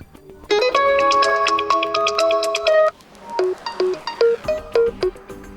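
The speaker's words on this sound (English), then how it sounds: "select new ringtone for your alarm from the list" A bright electronic alarm ringtone on an OPPO A53s phone plays a sustained chiming chord, then switches to a bouncy melody of short, plucky notes, close and clear.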